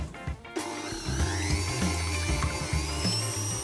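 An electric mixer whisking egg whites to stiff peaks for a rice pudding cake, a steady high whine with a bowl-scraping rattle throughout, near and alone.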